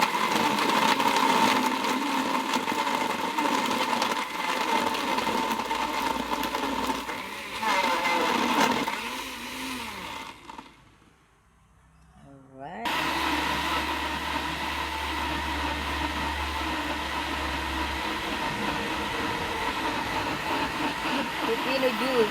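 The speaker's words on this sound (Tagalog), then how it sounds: "Blender tayo ng pipino." A blender blending cucumber whirs loudly and steadily for several seconds, stops briefly, then starts up again and keeps running, with voices talking faintly over the motor.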